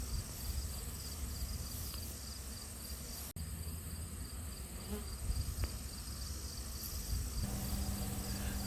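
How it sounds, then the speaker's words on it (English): A large honeybee swarm pours into a box outdoors, a steady dense buzzing hum of tens of thousands of bees that carries on evenly throughout, with no talking. "Just massive bees just flowing right into that box."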